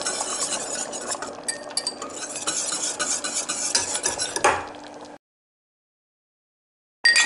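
Semi-thick cream is stirred into a white-fish sauce in a pot, with a spoon scraping and clinking against the metal over a soft bubbling for about five seconds before it falls silent.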